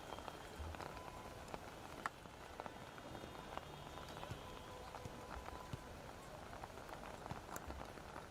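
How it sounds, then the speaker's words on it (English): Heavy rain pours down on the St. Aloysius football ground in Bengaluru after an under-15 youth league match, a steady dense hiss with scattered drop patter running under a commentator's voice. "it's starting to rain heavily now. It's pouring down at the St. Aloysious ground in Bengaluru"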